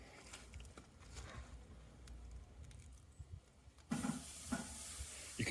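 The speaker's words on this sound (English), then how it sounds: "You can hear from that sizzle as you put the beef on that you've got it up to a nice temperature." A rib of beef laid on the hot grate of a Pit Boss K24 kamado grill gives off a steady hiss of sizzling, quiet at first and then louder and closer near the end.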